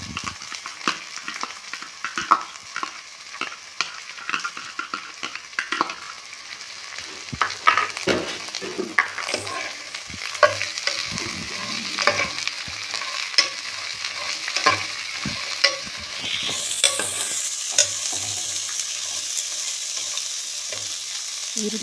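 Two bowls of onions fry in a pan while a spoon stirs them repeatedly, giving frequent scraping strokes over a continuous sizzle that swells louder near the end, close up and with no talking.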